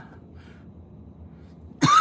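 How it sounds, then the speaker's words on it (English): A single short cough bursts out at the very end, close and loud, after a quiet stretch of low background hum. "I have a cough"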